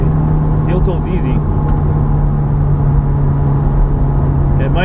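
Subaru WRX on stock STI wheels working through an S-bend, its engine droning steadily inside the cabin with a brief rise in revs from a heel-toe downshift, and someone talking over it.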